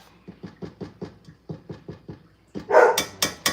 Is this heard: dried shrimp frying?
no